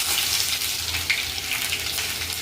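Garlic and ginger frying in hot oil while cooking manchow soup, a steady close sizzle with faint scraping from stirring, no talk.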